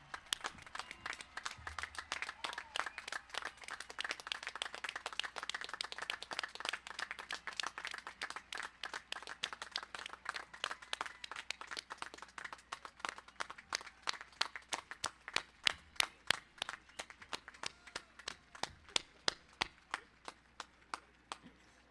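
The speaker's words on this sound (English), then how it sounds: "give the class of 2021 the loudest round of applause you can muster" The audience at the Menlo-Atherton High School class of 2021 graduation ceremony claps in a long, sustained round of applause that starts dense and gradually thins into scattered, distinct claps.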